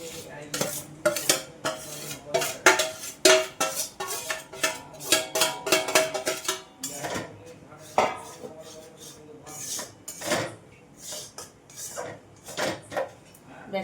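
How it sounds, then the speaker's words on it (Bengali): Gram flour (besan) is stirred into hot ghee in a metal pan, with rapid, close clanks and scrapes of the spoon against the pan coming in busy bursts, then slowing toward the end. "ঘিয়ের মধ্যে বেসনটা দিয়ে দিয়েছি, খুব ভালো করে এটাকে নাড়তে হবে।"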